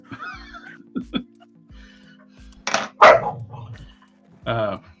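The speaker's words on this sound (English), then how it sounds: "That is the puppy getting on the senior dog's nerves. I recognize that sound." Sharp barks and yips erupt in scattered bursts from a puppy, higher-pitched, and an older dog, deeper, close by, with a voice speaking faintly between them.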